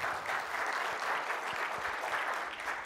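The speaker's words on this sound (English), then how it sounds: "round of applause" Steady audience applause fills the room evenly for a few seconds, moderately loud and slightly distant, with no voices over it.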